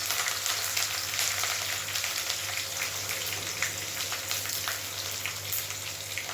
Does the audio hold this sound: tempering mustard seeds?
yes